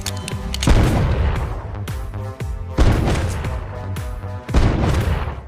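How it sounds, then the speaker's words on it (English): Pistol gunfire in a film action scene: three sharp shots land about two seconds apart, each a loud broadband crack with a short ringing tail over a dense, rumbling background of score and effects. "The sound of gunfire immediately alarmed the sheriff"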